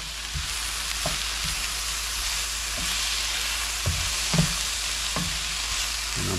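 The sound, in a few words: butter sizzling in the pan with snow peas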